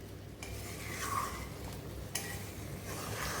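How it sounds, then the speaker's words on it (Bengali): Fish curry broth with a little added water, for a chital (knife fish) kaliya, simmering in a pot. A faint, steady sizzling bubble hisses throughout, with one or two soft utensil knocks and no voices. "এবার দেখো ঝোলটা ফুটতে শুরু করেছে"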